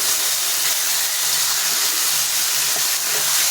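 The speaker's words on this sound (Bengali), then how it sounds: "এবার দেবো একটু বাটি ধোয়া জল।" Bowl-rinsing water goes into a curry in a hot pan, setting off a loud, steady hiss and sizzle of steam that runs for the full stretch with no voices.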